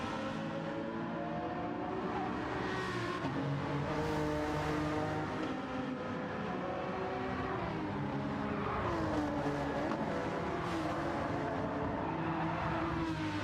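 Race car engines in Gran Turismo 7 during a manufacturers cup race, a continuous loud roar with rising and falling revs as cars accelerate and shift, other cars audible alongside.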